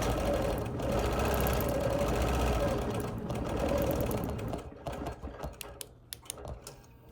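Quilting machine stitching a Quilt of Valor, a steady close mechanical whir that runs continuously for several seconds, then breaks into slower, uneven clicks and short stitch bursts as it fills in a small spot.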